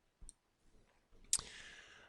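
A computer mouse is double-clicked to open an invoice, with faint soft clicks followed by a sharper click and a brief quiet ringing tail in a quiet room.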